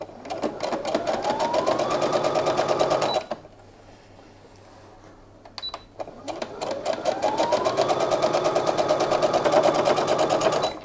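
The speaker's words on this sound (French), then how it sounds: "On va coudre dans la couture." A sewing machine stitching in the ditch along a seam while making a lace-trimmed garment hanger cover, running in two loud, fast, steady bursts with a short quiet pause between them.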